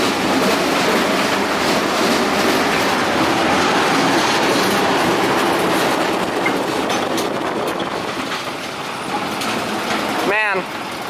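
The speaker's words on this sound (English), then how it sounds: "This is the second best coaster we're gonna ride today." Roller coaster ride at Lost Island: a continuous loud rumble and clatter of cars on track runs throughout, with a brief squeal near the end, and riders' voices mixed in.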